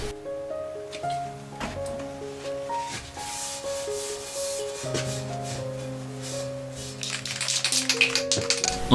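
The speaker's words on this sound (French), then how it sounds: "Je nettoie le tout, d'abord à la brosse métallique, puis à l'acétone." Wire brush scrubbing a welded metal frame of a small industrial-style cabinet, steady close rubbing and scraping strokes over faint background music, getting louder and more rapid near the end.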